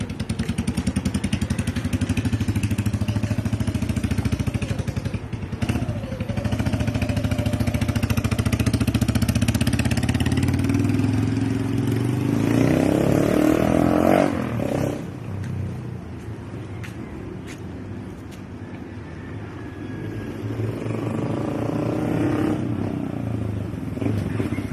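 A motorcycle engine runs steadily with a low rumble, swelling louder midway as it revs, then settling back into a loud continuous drone.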